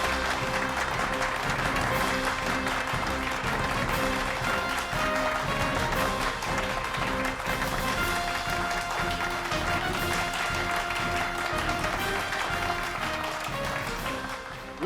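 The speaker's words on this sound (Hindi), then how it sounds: "तो जोरदार तालियों के साथ स्वागत कीजिए" A stage-show audience claps steadily and loudly for about fifteen seconds to welcome a magician in a CID television drama episode. The applause is thick and sustained and fades slightly at the end.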